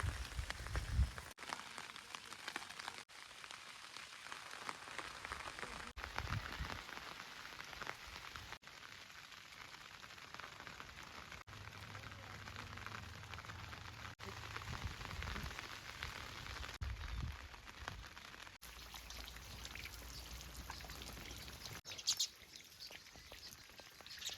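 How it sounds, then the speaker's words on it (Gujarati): Light, steady drizzle pattering softly on farmland in Gujarat, with faint bird chirps now and then in the background. "ધીમો ધીમો વરસાદ છે ક્યારનો"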